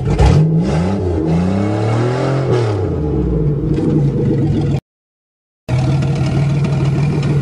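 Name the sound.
Buick Regal car engine running after no-start repair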